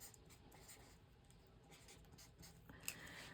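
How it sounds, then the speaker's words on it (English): A pen writes on paper with a soft, faint, continuous scratching, ending in a couple of sharper taps as the pen finishes. "Let me write that down."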